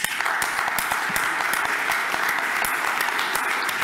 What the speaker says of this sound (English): I think you deserve a round of applause from all of us for what you have done